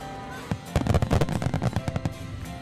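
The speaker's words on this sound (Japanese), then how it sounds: "長岡市で毎年8月2日3日に開催される長岡まつり大花火大会。 日本一の大河信濃川河川敷の広大なロケーションを生かし、ビッグスケールの花火が次々と打ち上がります。" Fireworks launch at the Nagaoka Festival grand display on the Shinano River banks, a dense run of quick crackling bursts and thuds that are heard from a distance at moderate loudness.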